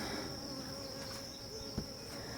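Honeybees buzzing around a swarm hive that is building fresh white comb, a steady droning hum with a high whine running through it, close and continuous, with one brief knock near the end.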